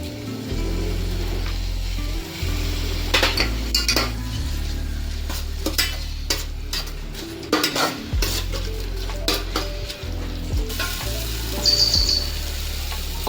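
Mutton curry with ginger-garlic paste and half a cup of coconut powder fries in a pot at a village cooking spot, sizzling steadily close by while a spoon repeatedly scrapes and clanks against the metal.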